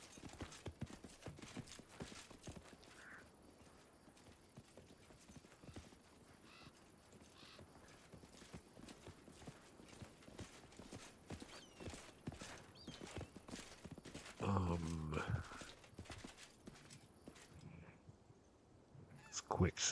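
Horse hooves clip-clop steadily through the fantasy role-playing game Pathfinder Kingmaker, a long, even, moderately faint trot with occasional creaks and a brief louder clatter near the end.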